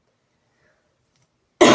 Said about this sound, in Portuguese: até demorou pra mim tossir